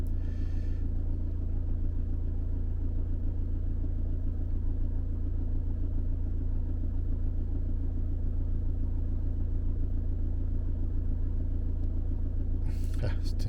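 A Peugeot Boxer van's engine idles after an oil and filter change, a steady low rumble holding even throughout, close and constant, with a voice talking over it.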